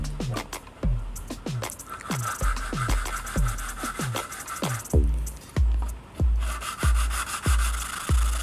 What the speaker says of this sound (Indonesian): Ini gua coba amplas dulu biar permukaannya lebih rata guys